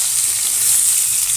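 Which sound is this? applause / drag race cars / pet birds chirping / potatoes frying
potatoes frying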